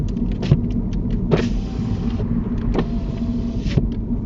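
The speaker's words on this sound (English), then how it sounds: "Open and close your window." A car's electric power window whirs down and back up several times during a driving test, with short motor bursts and clunks over a low idling engine rumble inside the cabin.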